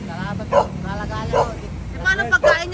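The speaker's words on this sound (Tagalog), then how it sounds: "Ang dami niya pong aso." Several dogs bark in short bursts, three or four yips standing out over steady crowd chatter and talk nearby, the barks moderately loud and close.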